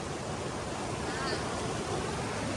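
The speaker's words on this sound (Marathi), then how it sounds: "पाण्याचा आवाज येतो म्हणून" Water rushes at Barvi Dam in a constant broadband roar, loud and unbroken throughout, like heavy surf or a waterfall.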